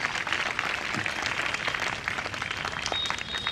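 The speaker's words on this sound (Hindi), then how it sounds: "अब सर के लिए ताली हो जाएगी।" An audience at a college batch reunion gives a guest a round of applause, a dense, steady clatter of many hands clapping in a hall.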